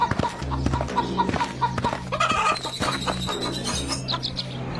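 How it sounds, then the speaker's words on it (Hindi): Several chickens cluck and chirp in a steady, busy stream, fairly close and loud, with the rhythmic calls of a flock of hens and no voices. "रत्नू अपने बेटों को मुर्गियां देकर घर से रवाना कर देता है। कलुआ बिलुआ दुखी मन से अपने हिस्से की मुर्गियां ले चले जाते हैं।"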